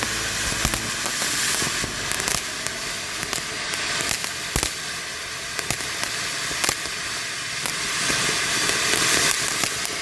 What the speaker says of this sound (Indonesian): Mercon air mancur barongsai jumbo, sangat lama sekali.